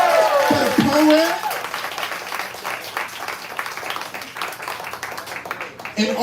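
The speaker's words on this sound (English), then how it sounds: "Make some noise for the poet." Poetry slam audience applauding and cheering for a poet: dense, sustained clapping fills the room after a brief opening whoop, with a voice speaking over the start and end.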